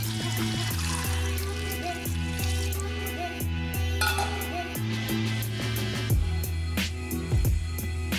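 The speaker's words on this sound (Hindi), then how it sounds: "और फिर इसमें पानी शामिल करेंगे" Water pours steadily into a pot of black chickpeas being cooked for a chickpea and rice dish, a continuous close splashing wash that runs over a low steady hum for the whole stretch.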